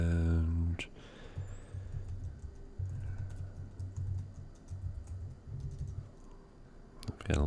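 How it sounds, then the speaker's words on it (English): Rapid clattering keystrokes on a small computer keyboard come in uneven bursts at a desk, fairly quiet and close, with brief pauses between runs of typing. "I've got a little bitty keyboard at home. I keep typoing."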